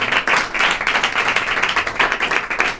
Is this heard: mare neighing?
no